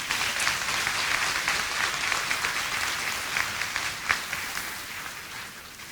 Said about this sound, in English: Let's please give these outstanding faculty members another round of applause.